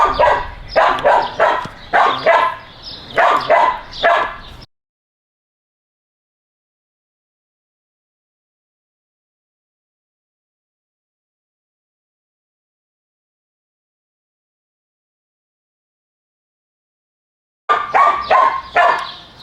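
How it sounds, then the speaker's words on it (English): A dog barks in quick repeated bursts, then falls completely silent for a long stretch before a fresh round of rapid barking resumes. "the dog is just barking"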